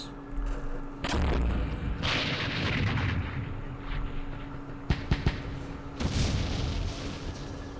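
Mortar and artillery fire in the Vietnam war game Campaign Series Vietnam booms repeatedly, heavy blasts landing at irregular intervals with rumbling decay and a few sharp cracking reports in between.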